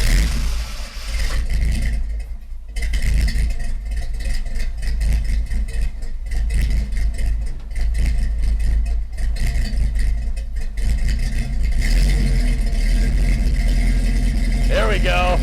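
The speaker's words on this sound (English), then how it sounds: "it's gonna get loud because the mic's next to the exhaust" A truck engine rumbles loudly, recorded right beside the exhaust, revving and surging repeatedly with deep throaty exhaust, steady and powerful throughout.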